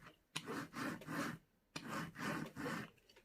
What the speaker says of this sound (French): je passe le coup de rouleau pour que mes diamants adhèrent bien